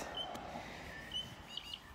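Bird calling near a long beach: a few short, high chirps and whistles rise over a steady wash of wind or surf, fairly faint and somewhat distant.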